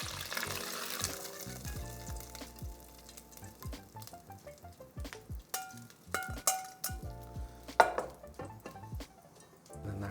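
Crispy browned garlic bits strained from a hot pan, with sizzling oil and light metallic clinks and taps of a strainer and utensils, moderately close and without talk.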